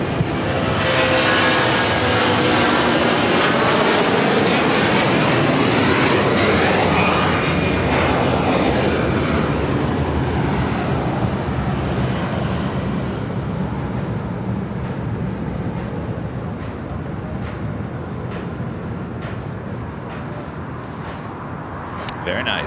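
Airliners taxi at LAX, including an American 777 lining up on runway 25 right, producing a loud continuous engine roar that swells and then eases, with a rising tonal whine, and a voice speaks over it.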